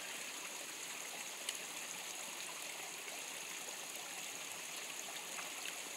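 Stream water flowing steadily during a dye tracing test, a soft continuous rushing and trickling that holds even and fairly faint throughout.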